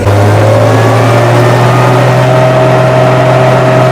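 An armored military vehicle drives on a public suburban road. Its engine gives a loud, steady, close drone with a constant low hum that never lets up, and nobody talks.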